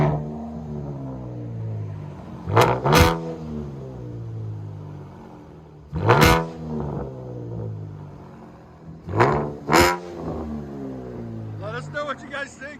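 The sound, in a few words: 2015 Chevy Camaro V6 true dual straight-pipe exhaust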